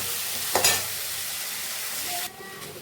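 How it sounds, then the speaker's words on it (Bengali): Potatoes fry in hot oil with a constant, bright sizzle, broken by a quick scrape of stirring early on, then the crackle drops lower toward the end. "তেলটা গরম হলে আলু পেঁয়াজ কলিটা ভেজে তুলি"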